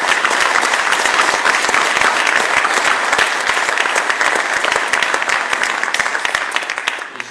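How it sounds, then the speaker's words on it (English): Sustained audience applause at a district attorney's event on ending domestic and sexual violence, dense steady clapping from a large crowd that tapers slightly at the end, with no speech. "So please join me in giving a big, big round of applause to Jane Doe."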